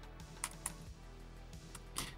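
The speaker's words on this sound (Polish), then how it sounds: "Możemy sobie zacząć pisać." Faint, sparse keystrokes on the Commodore-style keyboard of a Raspberry Pi 400 running Commodore 64 emulation, a few soft clicks over a steady low hum.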